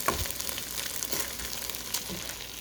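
Cooked rice is pressed and smoothed in a frying pan, giving a soft steady sizzle with a few scraping strokes of a utensil, close and alone.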